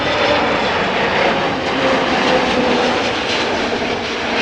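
An EasyJet Airbus A320neo passes at Amsterdam Schiphol airport, its engines giving a loud, steady roar that fills the whole stretch without letting up, with no voices heard.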